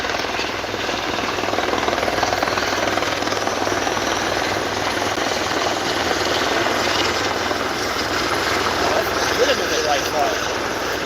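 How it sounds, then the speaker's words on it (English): A helicopter heard from a distance, a steady broad rotor and engine roar holding evenly throughout the whole stretch. "Helicopter."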